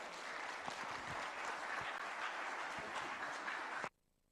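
Loud, steady applause fills a church hall as an audience welcomes a musical group during a Bible seminar, continuing without pause before cutting off abruptly into silence.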